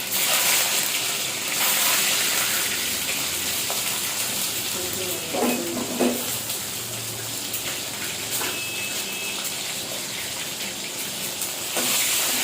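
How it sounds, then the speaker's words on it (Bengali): An egg frying in a wok gives a soft continuous sizzle at low level, with a couple of brief clatters and splashy bursts midway. "ডিমটা ভাজি হয়ে গেছে"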